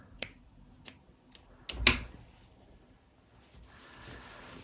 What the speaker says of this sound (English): There's a snip.